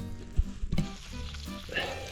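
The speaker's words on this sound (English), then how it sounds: "We got the steak, and we got the sizzle." Steak sizzles and crackles on a hot rock, with a few sharp pops and thumps from handling, close by and fairly loud.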